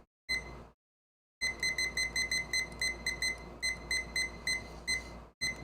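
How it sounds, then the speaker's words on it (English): Electronic kitchen-style timer being set, giving a rapid series of sharp, high-pitched beeps in quick rhythmic bursts with a short pause near the start, close and clear with no talking. "Let me set the timer."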